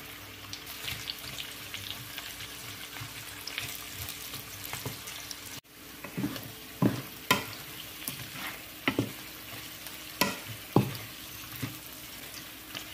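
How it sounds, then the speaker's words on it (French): Onion and garlic frying with mutton tripe in a pan, a soft steady sizzle broken by repeated utensil clinks and stirring knocks, close and alone. "maintenant j'ajoute l'oignon et l'ail. Je vais encore laisser bien mijoter."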